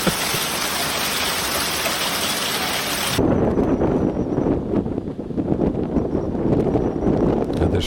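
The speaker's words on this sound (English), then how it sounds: "Another strong wind." Strong storm wind roars in a steady broadband rush, with loud gusting and microphone buffeting, continuous and close throughout.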